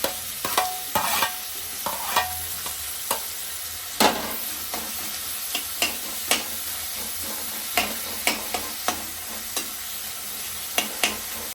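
Onion and tomato sauté in oil in a pan over low gas, a steady close sizzle broken by frequent sharp clicks and scrapes of stirring.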